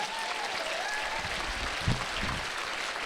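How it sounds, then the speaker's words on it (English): An audience at an arctic science summit evening event applauds steadily for about three seconds, a dense even wash of clapping at moderate distance. "Let's just give them a little applause here."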